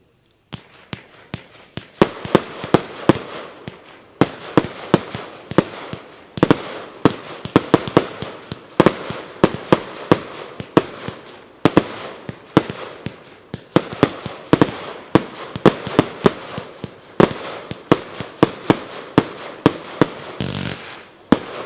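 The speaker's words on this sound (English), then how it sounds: "Number five, 56-shot gold spinner Nishiki with blue star gold strobe" A 56-shot fireworks cake of gold spinners with blue stars and gold strobe fires a long string of sharp, distant booms and crackles at an uneven rhythm.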